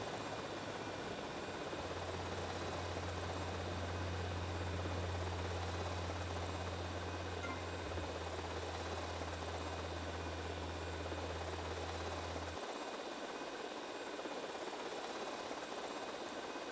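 Helicopter engine and rotor drone in Grand Theft Auto: Vice City, a steady low throbbing hum over a broadband whine that runs for about twelve seconds, then the low tones cut out and a thinner wash continues.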